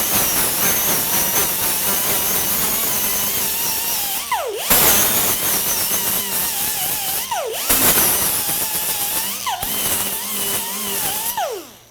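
A 90-degree air motor tool runs loud and steady at high speed during an impeller blade removal on a WAZER waterjet, with three brief stops where the whine drops and then spins back up.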